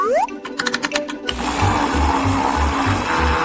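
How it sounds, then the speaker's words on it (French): A kitchen blender whirs loudly as it mixes vanilla ice cream with cheese, starting after a few short clicks and buzzing pulses and then running steadily with a pulsing low rumble. "je vais le mettre ici dans le mixeur"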